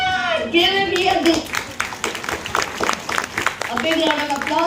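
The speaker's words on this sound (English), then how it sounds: "big round of applause" An audience at a pediatric first aid seminar breaks into a brief round of clapping, close and lively, mixed with people talking and exclaiming over it.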